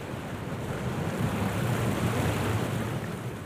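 Sea waves wash and rumble steadily around a small boat out on open water, with a constant broad hiss and wind noise close to the microphone and no voices.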